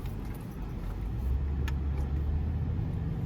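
Lexus LX570 SUV on a test ride after a transfer case fluid change, a steady low engine and road rumble from inside the cabin with a light rattle on top.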